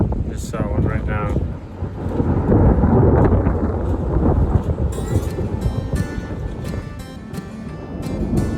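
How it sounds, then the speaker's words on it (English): Heavy rain roars steadily close by on a farm with deep rumbling thunder rolling underneath, gusts of wind buffeting throughout. "So the rain has been coming down like crazy this morning."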